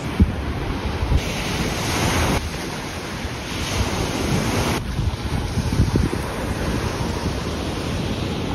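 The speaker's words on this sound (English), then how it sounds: "nice but very very strong waves strong current" Powerful ocean waves crash and roar onto a beach at Paraty, Brazil, loud and continuous, with heavy wind buffeting the microphone.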